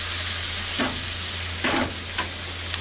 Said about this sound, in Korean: 고기에 버터 향이 입혀지도록 돌려가면서 굽습니다.